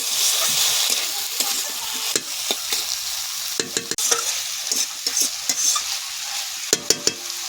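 Ginger and green chili paste fries in oil in a pan for a fish curry with eggplant and potato, a steady close sizzle punctuated by repeated sharp scrapes and knocks of a spatula stirring.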